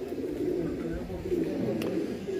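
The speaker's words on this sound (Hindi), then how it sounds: "ये देखें कबूतर" Pet pigeons bathing and milling about in a loft give soft, repeated low cooing that rolls on steadily, with a faint voice murmuring in the background.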